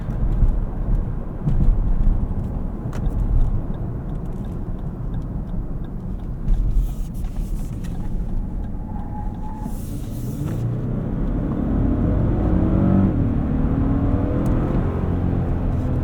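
From inside a 2025 Lexus LX 700h Overtrail driven in Sport mode, a steady low engine and road rumble fills the cabin, rising slightly toward the end as the vehicle pulls harder; no talking.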